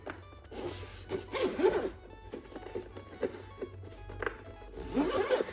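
A zipper runs around a JSAUX Max double-decker carrying case for an Xbox Ally X handheld, drawn in several quick rasping strokes with brief pauses between them, close and clear.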